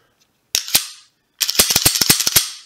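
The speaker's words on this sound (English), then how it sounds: "So just slide it all the way in, rack the pistol, make sure it's locked" A Smith & Wesson M&P 45 Shield pistol with a polymer frame gives two crisp metallic clacks as its slide is worked, then a quick run of sharp, close mechanical clicks.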